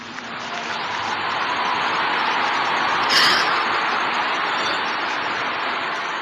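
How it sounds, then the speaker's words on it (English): Continuous applause from a large audience at a memorial gathering: a dense, even wash of clapping that holds steady and swells slightly midway, with no talking. "This applause goes on for like a minute."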